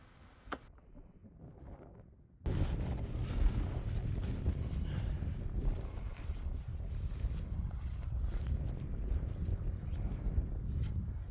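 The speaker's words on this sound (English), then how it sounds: "It's windy as all get out." Strong wind in Montana roars and buffets the microphone in a constant heavy rush after a quieter opening, with no voices heard.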